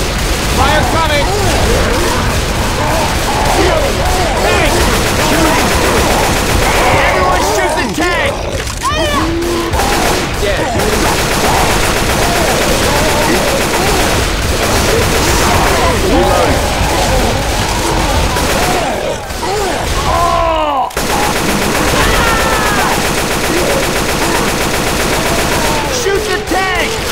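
Constant, loud gunfire fills a Left 4 Dead 2 fight against a Tank, dense rapid shots mixed with booms and shouting voices throughout, barely letting up.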